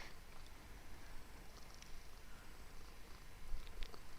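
A big black cat purrs on a person's lap, a faint, steady low rumble running unbroken for several seconds at close range, with no talk over it.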